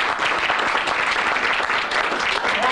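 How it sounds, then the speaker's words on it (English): Wedding guests applaud the bridesmaids and page boys with a full, continuous round of clapping that holds steady, loud and unbroken throughout. "I'd like to have a quick round of applause for the bridesmaids and the Page Boys"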